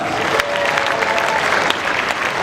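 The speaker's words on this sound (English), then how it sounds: "Give them another round of applause." Audience applause for a junior high jazz band at an All-Southern concert: steady, dense clapping from a full crowd, close and loud throughout.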